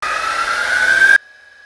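Rotary tool cutting a slot into a knife pin, a loud steady high whine with a slowly rising pitch that stops abruptly, leaving a faint fading tone.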